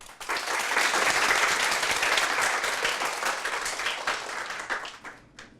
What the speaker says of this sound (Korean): 우리 정인숙 교수님의 인생의 이야기를 박수로 청해 듣겠습니다.